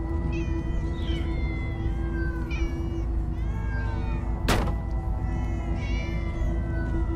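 A crowd of cats meows over and over in Minecraft Story Mode, with many overlapping cries rising and falling across a steady hum and one sharp burst near the middle, all fairly loud and close, with no talking.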